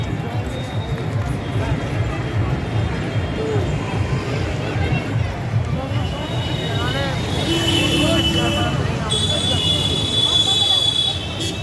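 A tram rolls along the tram line on Shobhabazar street in Kolkata at night during Durga Puja, a steady rumbling clatter moving past under a constant wash of festival crowd noise.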